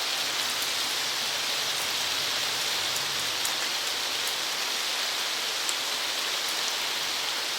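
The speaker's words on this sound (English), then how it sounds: "You hear how loud the rain is?" Heavy rain falls loudly and steadily on surfaces close by, a dense, unbroken hiss with scattered sharper drops and no talk.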